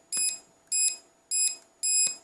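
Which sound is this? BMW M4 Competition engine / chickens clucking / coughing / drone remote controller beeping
drone remote controller beeping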